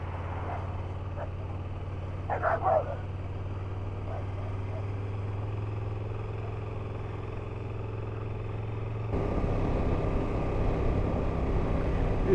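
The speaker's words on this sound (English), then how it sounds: "It's nice to drive the bike without all the luggage, to be honest." Motorcycle ridden without luggage on an English road trip, a steady low engine drone with wind noise that grows louder and rougher near the end.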